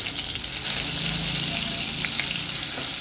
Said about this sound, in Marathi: लसूण आणि आलं चांगलं तेलात परतून घ्यायचं।